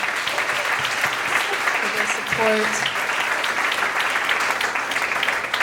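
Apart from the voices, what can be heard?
applause for the country offices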